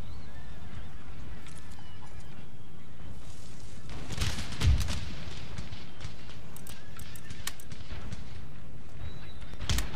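Cannon and musket volleys in a battle in the strategy game Empire Total War, with sharp bursts of gunfire, one loud report near the middle and scattered cracks over a continuous background din.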